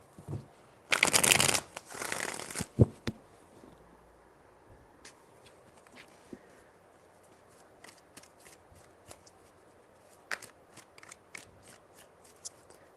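A deck of tarot cards being shuffled in a burst of brisk riffling near the start, followed by scattered light taps and handling sounds at close range, with no one speaking.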